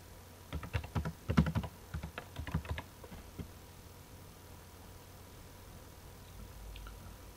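Password keys are tapped on a computer keyboard in a quick burst of soft, close clicks that trails off into quiet room tone, with no talking.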